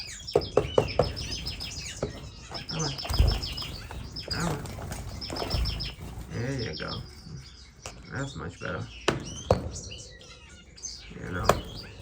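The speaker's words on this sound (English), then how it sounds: "Some owl finch babies." Baby owl finches chirp in short, repeated bursts of high tweets in an indoor bird room, while someone talks nearby over them.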